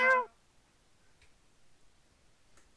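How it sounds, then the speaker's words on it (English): A single short cat meow, clear and fairly close, followed by near silence with a couple of faint ticks. "Of course, there's a meow."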